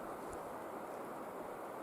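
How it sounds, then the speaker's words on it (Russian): Rain pouring down in a forest, heard as a steady, soft, even hiss from a little distance, with no voices or other sounds over it. "Вон слышно, как дождь идет."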